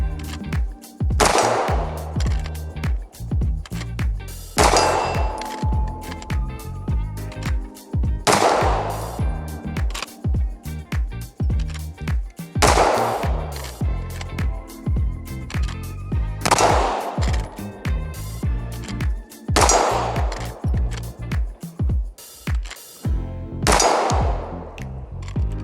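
A Glock 19 pistol with an Imperium 9C integrally compensated slide fires in quick strings of loud, close shots. The bursts come roughly every four seconds, with short gaps between them.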